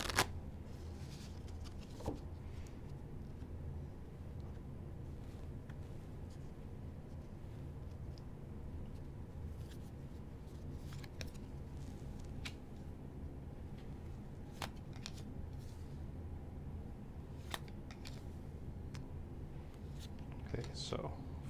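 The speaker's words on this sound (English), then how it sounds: "Cards are already shuffled, but I'm shuffling them once more just to make sure." Soft, continuous riffling and shuffling of playing cards with occasional crisp snaps, close and quiet against a low background hum.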